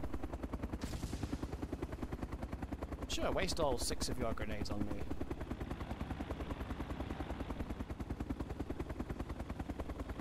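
Helicopter in a video game, posing as a car chopper: a steady rotor chop runs unbroken through the whole stretch, swelling briefly in the middle amid bursts of game effects, with someone talking over it.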